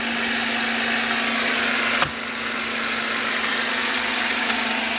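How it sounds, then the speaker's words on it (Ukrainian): Steady electrical hum and hiss from a power inverter running inside a homemade 2.2 kWh powerbank for an egg incubator, continuous and even, with a single sharp click near the middle. "Працює інвертор."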